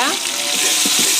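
Mustard paste going into frying pangas fish masala, a loud close hiss of hot oil with a few soft stirring scrapes over a brief moment.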